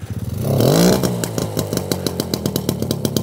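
A Motobecane Mobyx moped's new small two-stroke engine starts with a rising rev, then settles into a steady, rapid putter close by, its regular pulses loud and continuous with no talking.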